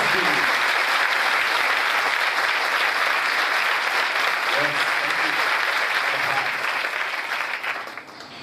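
Loud, sustained applause from a church congregation at a spiritual revival prayer meeting in Dumkhal, steady and dense throughout and tapering slightly near the end.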